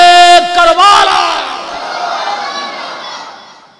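At a Bengali religious sermon about Karbala, a preacher calls out Nara-e Takbir with a loud, ringing cry. A big crowd answers with a massive roaring shout that swells and then slowly fades over several seconds.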